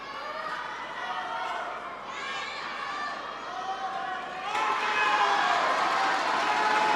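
Spectators at the 2017 China Open men's singles table tennis final between Timo Boll and Dimitrij Ovtcharov, a steady cheering crowd that swells noticeably louder partway through.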